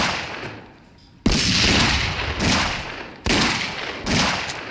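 Video game gunfire with two sharp, loud shots, each followed by a long booming echo and tail, spaced about two seconds apart.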